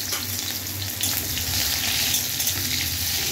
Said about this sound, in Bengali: কড়াইয়ে তেল গরম করে পেঁয়াজ কুচানো দিয়ে দিতে হবে,